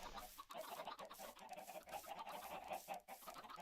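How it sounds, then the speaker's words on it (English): Dense, continuous clucking from a crowd of chickens packed into a cramped enclosure in the Minecraft video game, overlapping calls forming a steady busy chatter with no talk. "in this space, we have as many chickens as I could fit in there before entity cramming took over"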